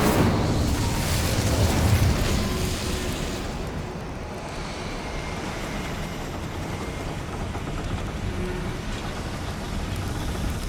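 A fire spell cast in the video game Hogwarts Legacy, a loud roaring whoosh of flame that swells in the first two seconds, then settles into a steady crackling rumble that carries on to the end.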